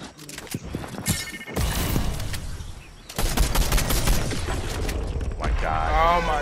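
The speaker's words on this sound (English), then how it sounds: "Some other guy shooting across." Rapid bursts of automatic gunfire crackle in a Fortnite match, heavy sustained volleys following lighter shots and mechanical clicks, loud and close, with brief player voices in between.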